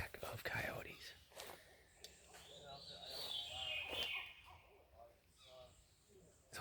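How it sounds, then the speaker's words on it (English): Wild birds chirp and warble along the Appalachian Trail, faint calls scattered through a quiet forest with some trilling phrases, while a person speaks softly in between. "There's all kinds of cool bird sounds out here."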